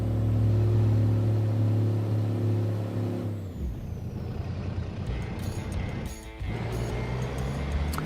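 A modded truck engine in Euro Truck Simulator or American Truck Simulator holds a loud, steady tonal drone. It then drops into a rumbling idle, with a brief hiss like an air brake partway through.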